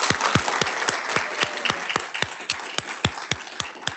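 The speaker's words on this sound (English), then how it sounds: "Let's give this panel a round of applause." An audience applauds a science panel in a conference room, with steady clapping at close range that mixes sharp individual claps with a broader crowd patter.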